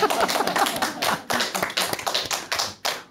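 An audience at a lecture breaks into brisk clapping in quick uneven bursts, close and fairly loud, with the clapping pulsing rather than flowing steadily.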